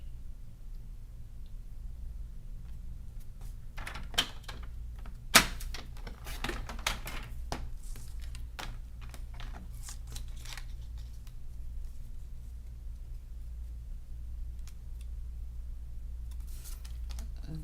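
Paper being trimmed for a handmade stamped card, a series of faint, scattered cutting and sliding clicks over a steady low hum, with no talking.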